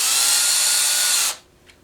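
A power driver whirs steadily at high speed, driving tiny screws into a Free-Mo model railroad module, then stops abruptly, leaving a faint click in near silence.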